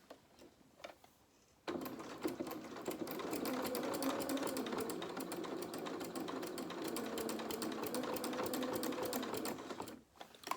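A sewing machine stitches steadily through a thick bit of fabric, a close, continuous rapid whir lasting about eight seconds with faint clicks before and after.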